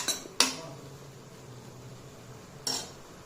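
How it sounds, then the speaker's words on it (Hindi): A metal spoon scrapes and clinks twice against a pan while spices roast over a faint low hum. The two clear strokes come a couple of seconds apart, and no one speaks. "अब हमें इस मसाले को भूनना है"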